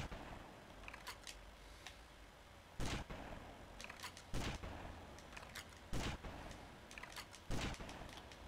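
Gunshots in GTA Vice City, a handful of sharp single cracks spaced a second or two apart over a low background hum, moderately loud against quiet surroundings.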